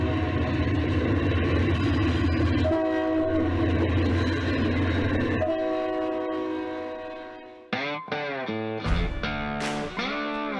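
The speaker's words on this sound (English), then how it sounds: "1 U-boat battles the upgrade, pulling a string of empty hoppers with some assistance from a helper set" A model railroad U-boat locomotive hauls a string of empty hoppers upgrade with a pair of GP-38-2 helper units, giving a steady loud rumble and drone, then several sharp horn blasts near the end.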